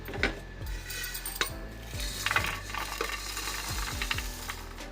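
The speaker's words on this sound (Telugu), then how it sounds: "లో ఫ్లేమ్లో వేయించుకోవాలి మంచి సువాసన వస్తుంది" Spices fry over a low flame in a pan while a spoon stirs them repeatedly, with soft sizzling under a series of sharp scraping clicks, close and fairly quiet, no talking.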